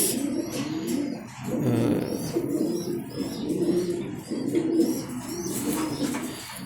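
Belgian racing pigeons coo in low, repeated throaty rolls, close and steady, with faint chirps above.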